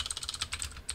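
Quick burst of keystrokes on a computer keyboard during a university programming lecture, rapid close clicks in a short run with nobody speaking.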